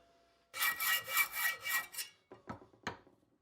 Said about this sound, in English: But I still use my hacksaw for some things though.